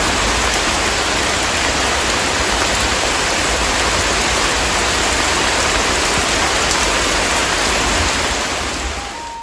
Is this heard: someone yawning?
no